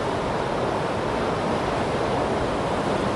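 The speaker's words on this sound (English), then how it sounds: "cyclone Batsirai brought strong winds and rain to Madagascar" Strong winds and pounding high surf from cyclone Batsirai on the east coast of Madagascar, a loud continuous roar of wind and crashing waves with no break or other sound.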